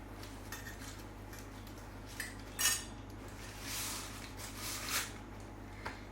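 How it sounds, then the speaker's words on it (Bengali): Silver bowl and spoon for a rice-feeding ceremony gift being handled, with light metallic clinks, taps and scrapes at close range over a quiet steady hum, a few sharper chimes standing out. "এটা রয়েছে রূপোর বাটি চামচ"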